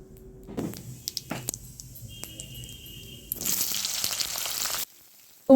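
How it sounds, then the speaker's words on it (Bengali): Whole cumin and a bay leaf sizzle in hot mustard oil in a kadai, first as a soft crackle with scattered pops, then as a louder burst of frying that stops abruptly. "কড়ায় দিয়ে দেওয়া হলো সর্ষের তেল আর তার মধ্যে দেওয়া হলো এক চামচ গোটা জিরে আর একটা তেজপাতা ফোড়ন"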